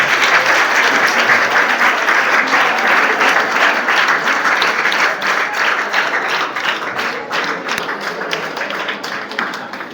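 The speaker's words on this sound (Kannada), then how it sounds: "ಎಲ್ಲರೂ ಚಪ್ಪಾಳೆ ಮುಖಾಂತರ" An audience at a college lecture on leadership qualities bursts into sustained, dense applause, loud and close, with many hands clapping together before it gradually thins and softens toward the end.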